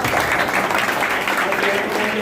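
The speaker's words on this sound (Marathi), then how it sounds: "यांच्यासाठी एक जोरदार टाळ्या वाजवा" An audience at a certificate and medal ceremony held in a village panchayat office claps together in a dense, continuous round of applause that lasts the whole short moment.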